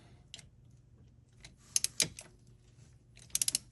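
Metal tools ratchet and click in short bursts while the thermostat housing comes off a 2002 Dodge Ram van, with a few quick ticks, a louder clank, then a rapid run of ratchet clicks, close and fairly quiet.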